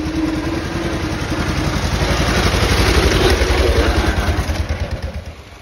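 The 10 or 12 horsepower engine of a 1907 Darracq AX vintage car running on the road in second gear, a rapid rhythmic chugging clatter that swells and then eases off near the end.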